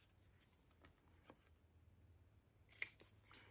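Scissors snip quietly through fabric, a few soft sharp cuts against a near-silent background.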